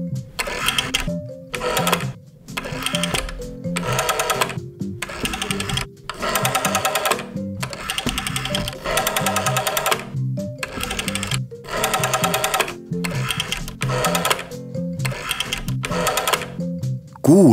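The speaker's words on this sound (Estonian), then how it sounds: "Valin uuesti numbreid." A rotary dial telephone is dialed, each digit giving a whirring, clicking return of the dial, repeated a dozen or so times in a steady series, close and loud with brief pauses between numbers.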